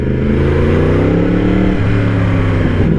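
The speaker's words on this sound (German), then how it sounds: "Kommt ein LKW." A truck passes on the road with a loud, steady low engine rumble and drone that fills the whole stretch, very close and with no talk over it.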